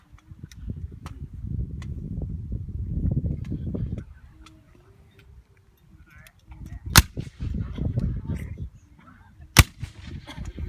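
Musket fire at a Revolutionary War reenactment at Yorktown: two sharp, loud gunshot cracks several seconds apart ring out over a steady rumble of crowd and outdoor noise.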